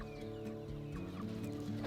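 Chickens on a small homestead cluck softly and steadily over a low, constant background hum, with no one talking.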